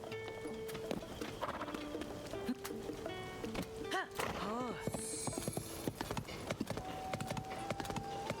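Horse hooves clop in a Zelda video game, a steady rhythmic trot of light knocks mixed with other game sounds and faint talk in the background.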